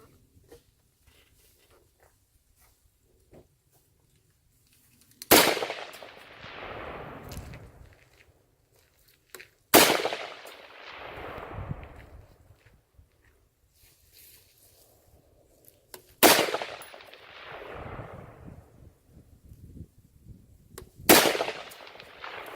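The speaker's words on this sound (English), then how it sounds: "I don't know if you guys are going to be able to hear the thump or not if I hit it again" An AR-15 rifle fires at a 6-inch steel plate 280 yards away outdoors: four loud, sharp cracks, each several seconds apart, every one trailing off in a rolling echo. No voices are heard.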